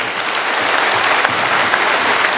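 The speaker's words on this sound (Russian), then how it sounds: "давайте похлопаем Виктору." Dense applause from an audience honoring a former CSKA basketball player at a jersey retirement ceremony, steady and continuous clapping filling the hall throughout.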